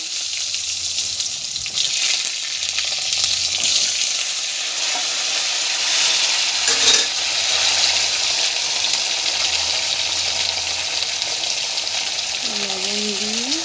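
Sliced pointed gourd with green chilli and nigella seeds sizzles and crackles steadily in hot oil in a pan, loud and close, with brief clatters and a low hum underneath.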